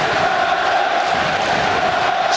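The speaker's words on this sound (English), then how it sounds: "At least that lifts the crowd" A football crowd at a Spurs v Charlton Athletic match gives a dense, sustained roar and cheer that fills the stadium evenly throughout.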